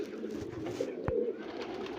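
Breeder pair of pigeons cooing faintly nearby, a low murmuring coo with one short sharp knock in the middle, quiet and without talk.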